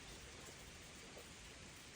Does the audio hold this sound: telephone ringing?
no